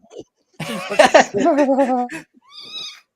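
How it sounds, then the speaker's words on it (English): A pet cat meows close and loud, a series of wavering, drawn-out calls in quick succession, ending with one thinner, higher meow after a short pause. "What a kitty!"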